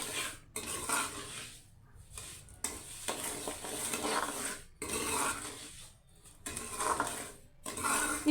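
A spoon stirs and scrapes a pan of suji besan halwa as sugar goes in, with soft sizzling and repeated metallic scraping in uneven bursts separated by short pauses. No one speaks.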